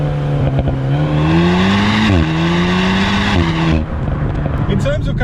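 An Alpine A110S sports car's engine climbs loudly through rising revs with a shift in between, then the tone drops away as the pull ends; a voice speaks over the engine noise.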